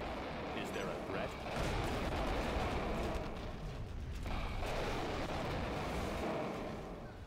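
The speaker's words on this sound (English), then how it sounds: "M270A1. Multiple launch rocket system." M270A1 multiple launch rocket system unleashing a salvo in a video game, heavy overlapping booms and rushing blasts rolling continuously, loud and dense, with a brief dip before the barrage swells again.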